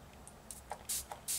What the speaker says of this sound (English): spray it with the Max Fix Plus. You only need a couple of sprays